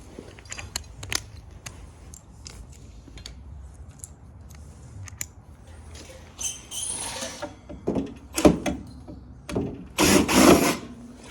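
A driver with a star head bit backs screws out of heavy copper radiators. Quiet ticks and clicks lead into louder bursts of whirring and ratcheting near the end, close by, with no talk.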